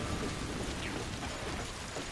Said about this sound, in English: Okay, this storm's getting pretty bad.